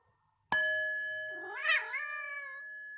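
A struck singing bowl rings out with a sustained metallic tone. A cat soon answers with a loud, wavering yowl that rises and falls for about a second while the bowl keeps humming.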